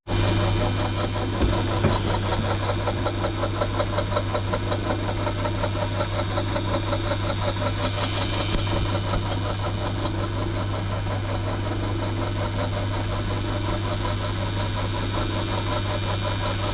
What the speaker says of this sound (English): I'm putting a center in the end of this